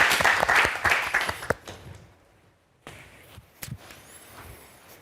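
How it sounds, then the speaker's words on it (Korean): Audience applause at a golf lesson event: a dense burst of clapping that swells, then tapers off within about two seconds, followed by quiet and a few scattered taps and shuffles. "박수 부탁드릴게요."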